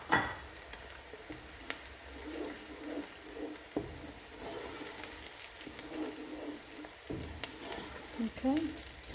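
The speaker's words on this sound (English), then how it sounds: "So I'm going to let them fry for about 3 minutes." Chopped green chillies fry in a masala curry base, giving a steady crackling sizzle with occasional stirring scrapes and pops throughout, close up, without speech.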